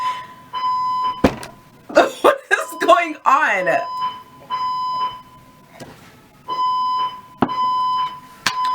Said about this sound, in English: The fire alarm was going off in the background.